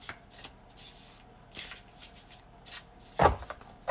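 Tarot cards are shuffled up close in a series of quick riffling bursts, fairly quiet, ending with a sharper snap of cards.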